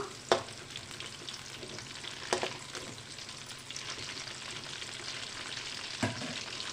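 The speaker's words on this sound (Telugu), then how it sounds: "ఇప్పుడు కాకరకాయ ముక్కలు నూనెలో వేసుకుందాం ఇప్పుడు కలదిప్పుకుందాం" Bitter gourd pieces sizzle steadily in hot oil for a kakarakaya pachadi, with a few sharp scraping clinks as a spoon stirs them through the pan, continuous and close with no voices.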